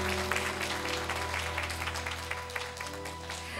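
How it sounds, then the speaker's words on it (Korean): A ceremony audience applauds at a joint religious commemoration event, clapping spread steadily across the room over a persistent low hum, with no voices over it. "박수 부탁드립니다."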